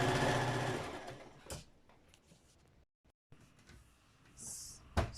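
A sewing machine whirs in short bursts while sewing skirt panels, with a clunk of handling between runs and a brief quiet gap, close up.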